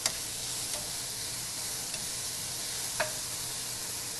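Shrimp and chicken sizzling in a hot pan for Cajun fettuccine, a steady close hiss of frying with a few faint ticks and utensil taps, no talking.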